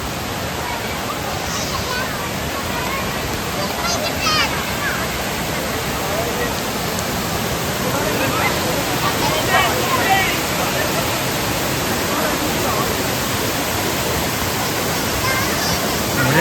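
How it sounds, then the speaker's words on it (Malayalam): Ezharakund waterfall roars steadily and close, a dense unbroken rush of falling water that holds level throughout with no pauses. "വെള്ളച്ചാട്ടത്തിന്റെ ഫോഴ്സ് കണ്ട"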